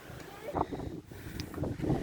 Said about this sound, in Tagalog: Sobrang hangin dito guys.